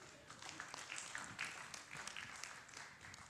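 Audience at a Sunday morning gathering clapping, a moderately faint, uneven patter of many hands with a few sharper claps standing out and no talking.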